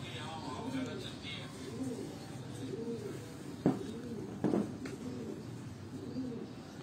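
Migratory pigeons coo in repeated soft, rolling phrases close by, over a low background hum, with a couple of sharp knocks partway through.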